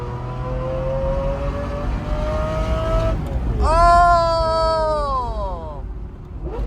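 Car engine revving through a downshift into first gear, a steady drone followed by a sharp blip that rises then falls in pitch, heard up close without voices; the gear shifter clicks are not clearly separable.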